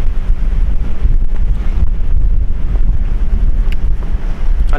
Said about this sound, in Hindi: बहुत ही प्यारी हवा चल रही है